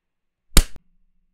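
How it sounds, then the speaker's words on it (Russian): A single sharp hand clap rings out alone in a quiet room during a math lecture, one brief crisp smack with a short tail and silence after. "надо три раза хлопнуть"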